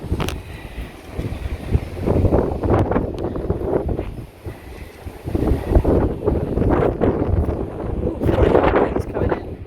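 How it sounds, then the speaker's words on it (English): A strong wind ahead of a storm roars and buffets the microphone in gusts that keep rising and falling, loud and close, with people talking now and then. "Ooh, the wind is really picking up."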